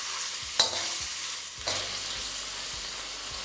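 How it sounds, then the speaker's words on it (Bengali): Chicken pieces and chopped garlic stir-frying over a high flame, a steady sizzle punctuated by a couple of sharp spatula knocks and scraping strokes, close and clear, with no talking. "চিকেনের সাথে এই রসুনগুলোকে আপনাদের ভালো করে ভেজে নিতে হবে"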